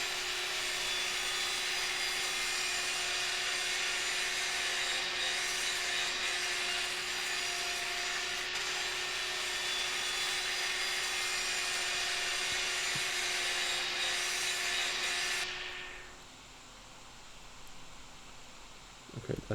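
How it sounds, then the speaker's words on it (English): An angle grinder scrapes rust off a car body with a loud, continuous whine and rasping grind, then spins down abruptly near the end, leaving a quieter background. "So we got the grinder here, and it's time to scrape off a good bit of the rust here."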